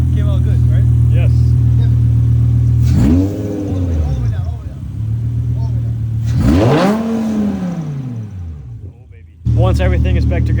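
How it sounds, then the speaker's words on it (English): A rebuilt engine in a BMW M5 E60 runs with a loud, steady idle and then revs up twice in rising and falling sweeps, close by, with a sharp burst of revving at the end. "at least my engine is running now"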